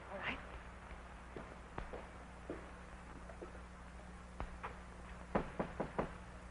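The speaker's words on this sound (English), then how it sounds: "Can't you knock any louder than that?" Someone knocks on a door in a 1936 mystery thriller. Sparse, light raps come first, then a quicker cluster of sharper knocks near the end, over a low steady hum.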